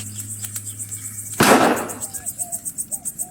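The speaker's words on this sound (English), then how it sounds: "the sound of gunfire sets you quivering like a coward" A single sharp gunshot burst cuts through a steady electronic hum, followed by a rapid rhythmic chirping pulse; audio from the western point-and-click game Rosewater.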